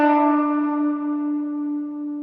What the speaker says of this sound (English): you're just bending it up and bending it back down.